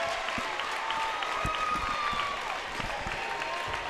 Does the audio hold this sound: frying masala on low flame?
no